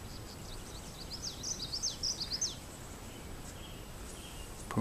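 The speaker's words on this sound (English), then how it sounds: "These are finches, yellow finches." Several quick, high chirps from small yellow finches flutter in a short cluster over a faint, steady outdoor garden hiss, with a couple of softer calls afterward.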